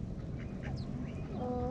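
Ducks quack in short bursts while being fed, close by against a steady outdoor background.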